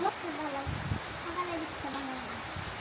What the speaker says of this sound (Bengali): যেমাত্র কারেন্ট আসছে আর অমনি বৃষ্টি শুরু হয়েছে।